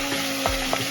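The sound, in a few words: food sizzling in a hot pan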